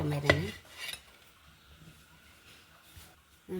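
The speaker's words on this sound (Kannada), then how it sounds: "ಒಂದು ಪ್ಲೇಟಿಗೆ ಹಾಕೊಂಬ." A sharp clatter of a utensil against a plate as roasted brinjal rotti is set down, one close clink near the start followed by faint kitchen quiet.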